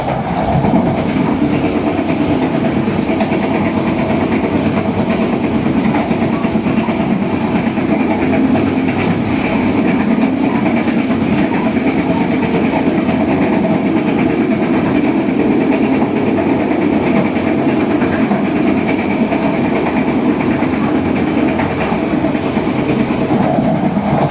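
Steady, continuous rumble and rattle of the Joglosemarkerto passenger train rolling along the rails past green rice fields and hills in Indonesia, with faint rhythmic clatter and no voices.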